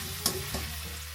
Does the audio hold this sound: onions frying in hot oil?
yes